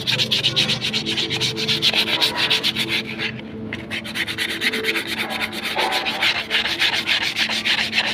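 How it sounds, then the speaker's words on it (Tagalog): 800-grit sandpaper rasps back and forth against an Isuzu Elf brake shoe in quick, steady strokes, close and continuous. "nililiha ko po yan ng number 800 na liha."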